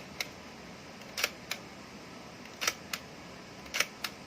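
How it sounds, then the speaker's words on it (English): A Fujica Z800 film camera firing single frames: crisp mechanical shutter clicks, some in quick double bursts, spaced irregularly over a few seconds, close and isolated against a quiet background. "And now when I press my shutter button,"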